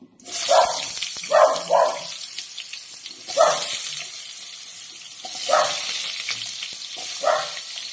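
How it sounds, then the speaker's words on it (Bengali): Soybean chunks frying in oil in a pan, a steady sizzle running throughout with several louder bursts of crackle and spatter, near and without speech. "দিয়ে ভালো মতো স্মেল আসার মতো এটা একটুখানি ভেজে নেব"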